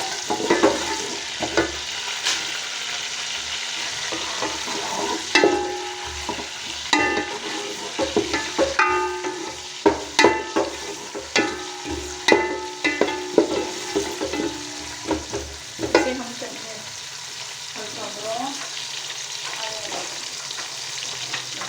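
Cumin, fenugreek seeds and a small onion fry in oil with a continuous crackling sizzle. A spoon scrapes and stirs in clustered clicks, and the sizzle settles into a softer hiss near the end.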